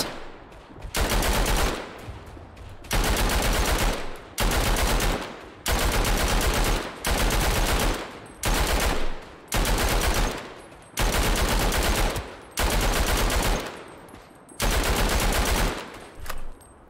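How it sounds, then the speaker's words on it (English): Sustained bursts of light machine gun fire in the World War I shooter Verdun, each long rattling volley lasting one to two seconds, close and loud, repeating in a regular rhythm separated by brief pauses. "Those are just warning shots."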